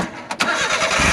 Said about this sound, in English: we'll go ahead and start it up